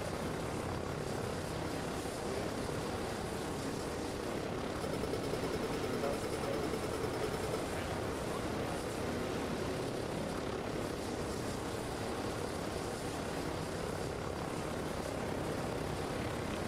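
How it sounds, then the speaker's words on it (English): A helicopter flies over the ocean in a video game, a faint, steady rotor and engine drone that holds evenly throughout with no talking. "There's a helicopter flying over the ocean."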